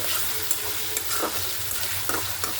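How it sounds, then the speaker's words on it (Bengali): Onion and garlic fry in a pan with a constant loud sizzle while a spoon scrapes and stirs in repeated strokes, cooked before turmeric and chili for a brinjal, potato and dried loitta fish bhuna. "আলাদা করে আগে পেঁয়াজ রসুন ভিতরে ভালো করে আগে ভেজে নেব"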